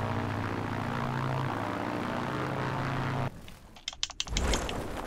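Propeller warplane engine in the World War II shooter Battlefield 1943, a steady loud drone for about three seconds that cuts off abruptly, followed by a few sharp clicks and thumps.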